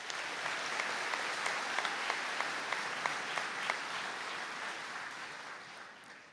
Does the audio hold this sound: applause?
yes